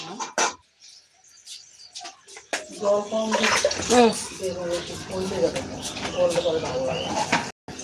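Water poured into a pan while cooking baby hilsa fish with mustard and eggplant, a continuous splashing gush lasting several seconds, with a voice speaking over it.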